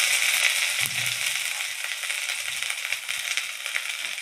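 Bay leaf and dried red chillies hitting hot oil for a bottle gourd moong dal, giving a steady, dense crackling sizzle that stays loud and close throughout, with a brief low clatter near the start and no talking.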